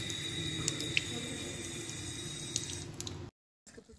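Mineral water runs steadily from a tap in a sanatorium pump room in Nalchik, Kabardino-Balkaria, a continuous close splashing stream that stops abruptly near the end, leaving brief quiet.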